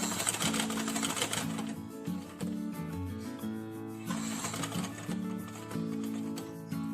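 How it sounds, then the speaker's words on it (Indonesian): Sewing machine stitching down along a zipper while replacing it in a pair of jeans, a steady close mechanical whir with rapid needle ticking and brief pauses and restarts, alone without talk. "ini kita jahit yang ke bawah sampai ke pangkal bagian bawah"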